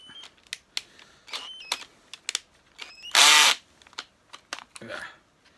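A power drill fitted with a small polishing mop whirs loudly for about half a second, set among clicks, taps and handling noises; speech-like sounds are also present.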